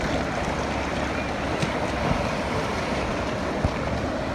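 Choppy sea waves wash and slosh around a canoe near the shore, a constant broad roar with wind buffeting the microphone and occasional splashes against the hull.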